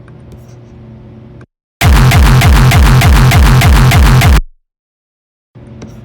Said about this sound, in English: if you do it correctly, you should have this bounce to audio, and it should sound like this.